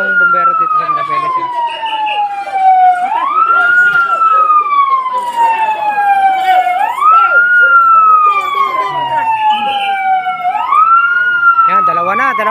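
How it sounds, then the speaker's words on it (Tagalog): Wailing fire truck sirens responding to a house fire in Mariveles, Bataan, rising and falling in repeated long sweeps, loud and close, with a second siren layered underneath and people talking in the background. "narumisponde na yung bumbero dito sa Mirabeles"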